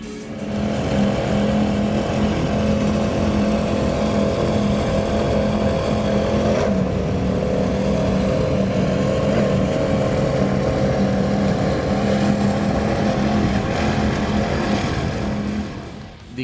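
Mercury Racing 500R engines power a Performance Cat powerboat on a Key West poker run, giving a loud, steady, continuous engine drone that holds for the whole stretch.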